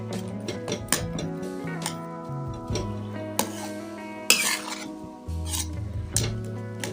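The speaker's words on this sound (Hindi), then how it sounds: "अब इसे हम थोड़ा सा किसी कड़छी या किसी चीज़ की मदद से इस तरह थोड़ा सा पीस लेना है हमने" A ladle mashes cooked carrots and rice for carrot kheer in a pot, making soft, repeated scraping and knocking strokes, with metallic ringing taps and light rasping against the metal.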